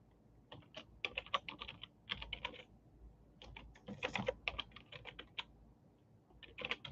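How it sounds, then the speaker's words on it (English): Slow, uneven typing on a computer keyboard, faint and close, with scattered clusters of keystrokes broken by short pauses. "Y'all excuse my slow typing"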